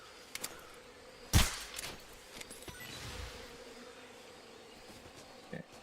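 Bees buzz faintly in the forest of the stealth video game Metal Gear Solid Delta: Snake Eater, a low insect drone beneath scattered rustles and soft thumps of movement, with no talking.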